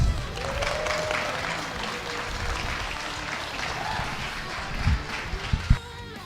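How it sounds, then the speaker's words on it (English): An audience at a Super Smash Bros. Melee tournament top 8 event in Oslo, Norway applauds with sustained, fairly dense clapping that thins out near the end, with a few louder thumps and scattered voices in the room. "So take a big applause for the top 8."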